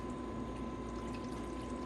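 Distilled water pours steadily into a DTF printer's ink lines, making a faint, continuous wash of liquid noise with a thin steady tone running underneath.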